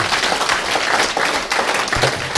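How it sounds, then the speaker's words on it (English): An audience at a live mediumship demonstration during a spirit seekers weekend applauds a gentleman, a dense, steady round of clapping from many hands that carries evenly through the whole stretch. "can we have a lovely round of applause for this gentleman, please?"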